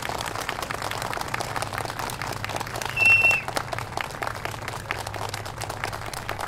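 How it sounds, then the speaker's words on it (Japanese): Steady audience applause fills a large outdoor venue after a Japan Maritime Self-Defense Force Kure band concert at the 2019 Kure curry festival, dense clapping continuing evenly throughout with a brief louder swell midway. "会場の皆様、盛大な拍手をよろしくお願いいたします。"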